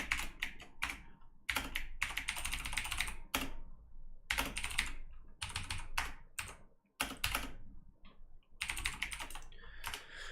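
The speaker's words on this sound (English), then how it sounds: "I'm going to type this equation out first" Steady typing on a computer keyboard, quick clusters of close clicking keystrokes separated by short pauses, alone with no talk.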